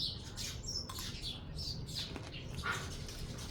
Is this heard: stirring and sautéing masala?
no